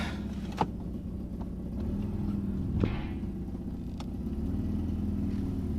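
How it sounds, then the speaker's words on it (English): An idling car engine with a bad exhaust leak gives a steady low rumble with a rhythmic puffing tick, plus a few sharp knocks and a slight rise in revs, heard up close with no talk. "If I give it a bit of throttle, she's alright. Mad exhaust leak."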